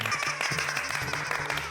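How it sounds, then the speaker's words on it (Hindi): Hand clapping indoors, a quick run of fairly even claps under a steady musical bed, moderately loud and continuous for a couple of seconds. "ताली बजाओ।"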